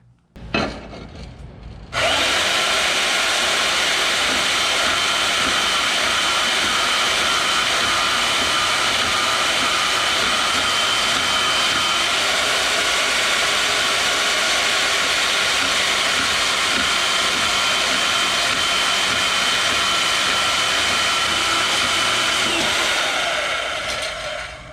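A small bandsaw cutting steadily through stock, a loud continuous buzzing rasp that starts abruptly after a brief moment and runs unbroken until it tapers off at the end, with no talk.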